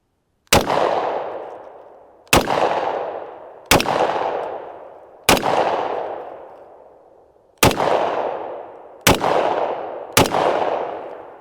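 A Hi-Point JXP10 10mm pistol fires seven loud, sharp shots at an outdoor range, spaced irregularly one to two seconds apart, each followed by a long ringing echo that fades before the next.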